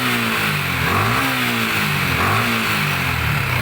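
A Yamaha Sniper 155 motorcycle engine with a VVA problem revs up toward 7,000 RPM, its loud, close engine note rising and dipping in waves.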